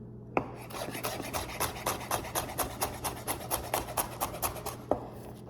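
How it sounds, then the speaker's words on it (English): A knife chops steadily against a cutting board while preparing tuna for wraps, about a dozen sharp, evenly spaced strokes with a rasping edge, close and fairly quiet, with no talking. "you might hear some loud noises coming out of the cutting board"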